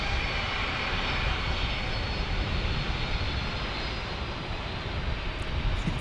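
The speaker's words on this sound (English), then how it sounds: "7 FedEx is getting ready to take the runway here." A FedEx airliner's jet engines roar steadily on the runway before takeoff, a loud, constant broadband rush with no pauses.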